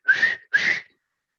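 A voice imitates a trainer's whistle meant to stop a dolphin, giving two clear, loud, near whistle blasts of about a third of a second each, separated by a short gap, with no talk.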